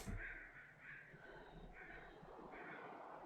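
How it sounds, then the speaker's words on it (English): Crows caw in bursts of harsh calls in The Long Dark, heard at a moderate distance over a low, steady rumble of wind or ambience, with three or four spaced caw groups. "Oh, I hear crows."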